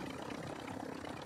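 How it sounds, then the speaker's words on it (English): A helicopter engine in Call of Duty Warzone 2, a steady droning rotor hum with rapid beating, continuous and fairly loud across the short moment. "You see the helicopter?"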